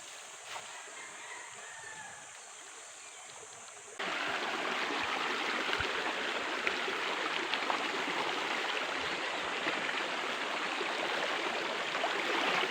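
River water rushing over rocks in a steady broadband wash that swells louder after a few seconds, with faint voices in the background.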